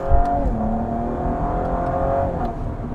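A 2016 Cadillac ATS-V's twin-turbo V6 revving up steadily as it accelerates, heard from inside the cabin with a smooth, rising tone.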